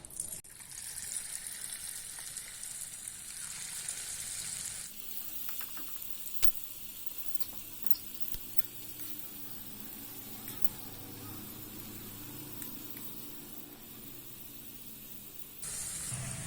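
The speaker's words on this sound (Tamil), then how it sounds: "நம்ம செஞ்சு வச்சிருக்க இந்த முட்டைக்கோஸ் மசாலாவை இந்த மாதிரி குட்டி குட்டியா போட்டு பொரிச்சு எடுத்துக்கலாம்." Small pieces of cabbage masala deep-fry in hot oil for street-food kalan, a steady hissing bubble that swells and eases, with a brief sharp click partway through and no voices.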